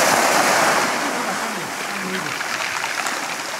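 Black Sea waves washing onto the shore at Sevastopol on a summer morning, a steady broadband roar of surf that stays loud and unbroken throughout, with no clear individual breaks.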